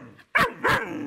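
A four-month-old German Shepherd puppy gives two sharp, loud barks in quick succession, close by, with a faint yip just before them.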